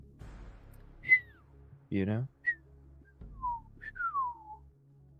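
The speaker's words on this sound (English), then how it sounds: "I can't even whistle right." A man whistles a short, wobbly Western-style tune in a few sliding phrases with gaps between them, close and fairly soft, with brief talking before the whistling.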